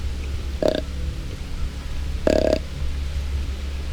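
Two short, low grunts from a whitetail deer during the rut, about a second and a half apart, close by over a steady low rumble.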